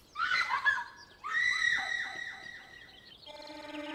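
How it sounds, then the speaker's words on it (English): Scream in the horror video game A House For Alesa, a shrill, wavering cry lasting a couple of seconds. A brief burst comes before it and a tonal game sound follows, with no speech. "A scream! Someone's in trouble!"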